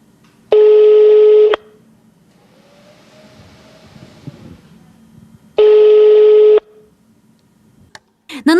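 An unanswered telephone call gives two long, loud ringback tones about five seconds apart, with faint background noise between them and a brief click at the end.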